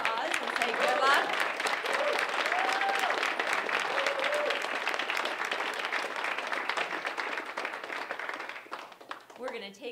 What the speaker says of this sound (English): Can we all give them a round of applause and say good luck?